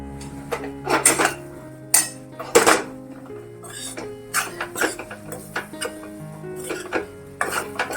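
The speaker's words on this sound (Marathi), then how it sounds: "अशी तळातून अशी हलवून घेईल" A spoon stirs and scrapes watli dal, a traditional Maharashtrian crumbled lentil dish, in a metal pan, giving irregular close clinks and scrapes over a soft sizzle, with a voice speaking between the strokes.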